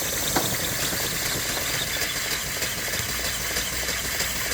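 A small vertical steam engine with a flyball governor runs on steam on a rolling cart, giving a loud, steady hissing roar with a faint rhythmic rattle and chuff underneath.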